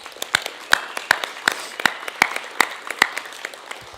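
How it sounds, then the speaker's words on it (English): An audience applauds new members at an honor society induction ceremony, with distinct, fairly loud claps landing in an even rhythm against a quiet hall. "Please join me once again in applauding all of our new NHS members and our graduating seniors."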